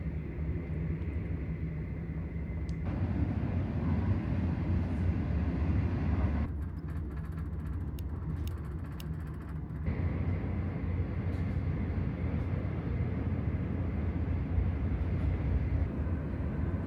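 The Z100 sleeper train from Guangzhou to Shanghai rolls steadily along the tracks near Hangzhou with a low, continuous rumble from inside the carriage, the tone shifting slightly now and then.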